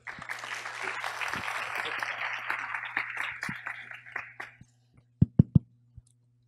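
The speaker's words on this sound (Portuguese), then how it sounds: "Salva de palmas para ele." An audience at an international seminar on publication launches applauds a presenter, a dense round of clapping that thins and fades over several seconds, leaving a few scattered claps and sharp knocks near the end.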